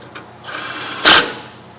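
A power tool whirs briefly while running down the rear caliper bracket bolts with an 18 mm socket on a 2015 Ford F-150, a rising buzz ending in a short, loud burst.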